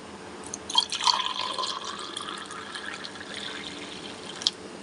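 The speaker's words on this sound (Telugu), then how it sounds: "అందరూ హాట్ వాటర్లో లెమన్ వేస్తే నేను లెమన్లో హాట్ వాటర్ వేస్తాను" Hot water being poured onto lemon in a home kitchen, a continuous liquid trickle and splash with a couple of sharper drips, close and fairly soft.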